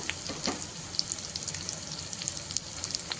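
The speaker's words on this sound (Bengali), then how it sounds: "একটু কষিয়ে নিচ্ছি এবার দিয়ে দিচ্ছি জিরে বাটা" Tomato, onion and cumin paste sautéing in a pan for a dried-fish curry, a steady low sizzle with scattered crackles and pops, quiet and continuous with no talking.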